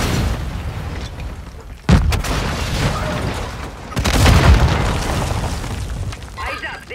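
Explosions from a grenade or RPG in Call of Duty Modern Warfare II multiplayer, with a sharp blast near two seconds and a heavier rumbling boom around four seconds amid ongoing battle noise and shouted voices.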